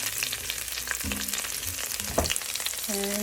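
Diced garlic frying in olive oil in a pan, a steady close sizzle and crackle throughout, with a few soft stirring knocks and no talking.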